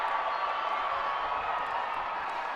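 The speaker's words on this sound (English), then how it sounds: "Home crowd erupts" A home crowd at a women's ultimate frisbee championship game in Seattle roars steadily after a goal, a distant, sustained wash of cheering with no pauses.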